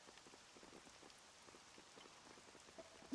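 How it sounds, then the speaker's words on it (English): Gray rain falls in the video game Dragon Quest VII Reimagined as a soft, steady patter of drops on surfaces, quiet and unbroken, with one brief louder tap at the very end. "The gray rain, it's back."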